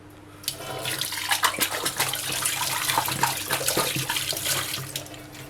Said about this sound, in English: I'm just gonna rinse it clean right now.